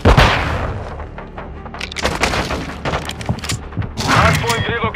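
Rapid gunfire in Call of Duty Modern Warfare II multiplayer crackles loud and close in a dense fusillade of sharp shots and thuds, with a heavy burst at the start and end under occasional voices.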